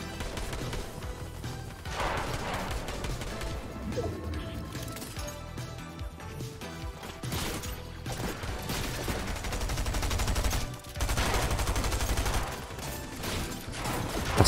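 Gunfire from a competitive Fortnite solo cash cup match: rapid bursts of shots, cracks and crashes, dense and continuous, layered over game music and effects, with no clear talk.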